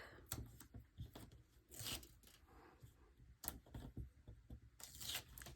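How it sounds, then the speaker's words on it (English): Score tape peeled off a folded cardstock 5x7 card base, heard as a few brief close tearing and crinkling bursts with light paper shuffling between them, no talk. "We are going to peel off our score tape."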